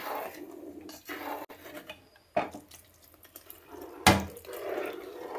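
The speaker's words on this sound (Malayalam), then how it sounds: "നമുക്കിനി തരിപ്പാൽ ഒഴിക്കാം കേട്ടോ" Thin coconut milk poured into a simmering mango curry in a pot, a soft liquid trickle and splash with a few brief utensil clinks, fairly quiet and close, with no talking.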